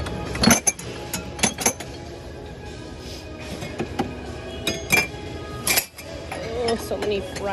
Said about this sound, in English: Lots and lots of clear glass.